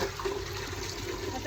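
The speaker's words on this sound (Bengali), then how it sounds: "ভাতের জন্য জল নিচ্ছি।" Water runs steadily from a tap into a container, collected for cooking rice, a continuous close splashing rush with no pauses for the whole moment.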